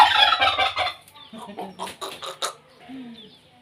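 Chickens cluck and cackle up close, a burst of loud squawking followed by softer, broken clucks.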